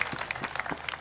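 A short burst of crowd applause at an SMWA 2016 gathering, with uneven clapping from many people heard close and fairly loud for a single second.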